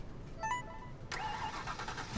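A car engine in Need for Speed Heat starts with a sudden rough burst after a brief quiet whine, then settles into a low, sputtering idle, heard alone and at moderate volume.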